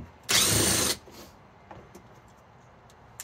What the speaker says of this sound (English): So first remove one screw here, one screw holding